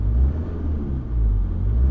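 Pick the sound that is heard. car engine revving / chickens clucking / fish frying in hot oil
car engine revving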